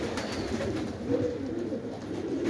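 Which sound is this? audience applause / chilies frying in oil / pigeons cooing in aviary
pigeons cooing in aviary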